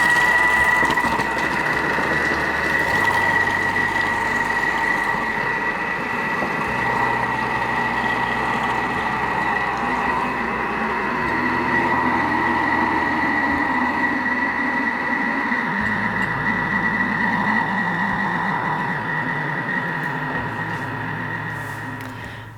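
A kitchen stand mixer runs steadily on speed 4, blending cake crumbs in a bowl with a constant motorised whir and hum that holds evenly throughout at moderate loudness, without any talking.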